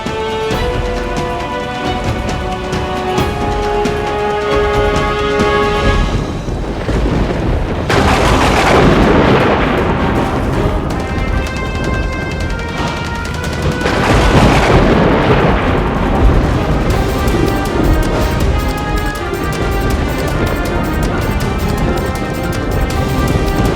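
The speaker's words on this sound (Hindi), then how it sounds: "ऐसा लग रहा है जैसे बादल फट गया हो" Thunderous booming roar like a cloudburst in a mythological drama, loud rolling rumbles and cracking bursts that surge and fade over a sustained noisy bed, with music tones underneath and no clear speech.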